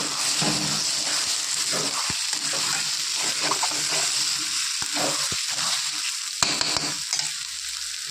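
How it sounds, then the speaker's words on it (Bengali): Pieces of maan kochu (giant taro) sizzle loudly in hot oil in a pan while being stirred, a dense, continuous crackling hiss broken by a few soft scrapes and knocks of the spatula, up close and without talk. "এবার এই কচু ভালো করে আমি একটু নেড়ে নেব"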